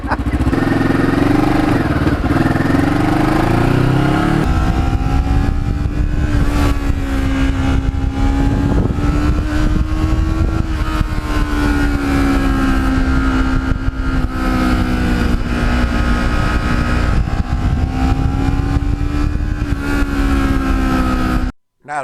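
A Kawasaki Ninja motorcycle engine drones steadily while riding early in the morning, a loud continuous hum with gentle pitch rises and falls as the throttle shifts, then cutting out abruptly at the very end.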